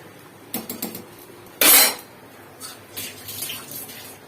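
A pot of cooked rice is lifted off a home stove: a few soft metallic scrapes and clinks, one sharp louder clatter, then quieter rattling handling sounds.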